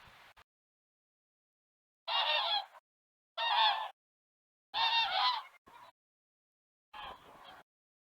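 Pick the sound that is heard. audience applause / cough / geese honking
geese honking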